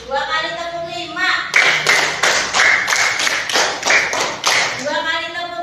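Two rounds of five sharp, rhythmic hand claps from a group of children at a school class activity, loud and close, with children's chanting voices just before and after.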